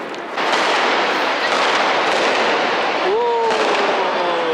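Diwali firecrackers go off in a loud, dense crackle that lasts the whole stretch, and a rising whistle cuts through near the end.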